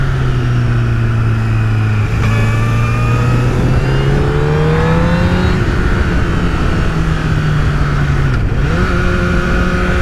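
A Honda CBR1000RR Fireblade SC59 superbike engine revs loudly and close in second gear, its pitch climbing steadily, dropping at a gear change, then rising again under constant wind and road roar.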